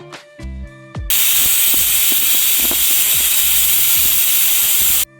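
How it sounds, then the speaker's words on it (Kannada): After a few soft clinks, a pressure cooker cooking rice lets out a loud, steady jet of steam that hisses for about four seconds, then cuts off abruptly. "ಈಗ ವಿಸಿಲ್ ಬಿಟ್ಟಿತ್ತು"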